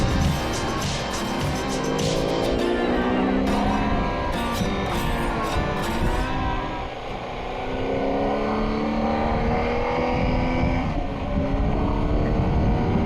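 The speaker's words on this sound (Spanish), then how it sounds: "sobre todo por el ronroneo del motor Boxer y el Akrapovic" A BMW R1250GS Triple Black trail motorcycle's Boxer engine with an Akrapovic exhaust purrs and revs on a mountain road, loud and close, rising and falling in pitch as the throttle opens and eases off.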